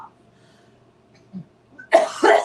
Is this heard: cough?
yes